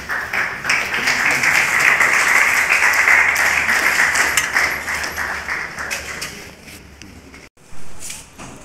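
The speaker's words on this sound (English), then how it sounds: "Fellows, let's give them all a round of applause for the standing" Audience applause at an annual lecture and investiture ceremony, sustained dense clapping from a large crowd for several seconds, then fading, with a brief renewed burst near the end.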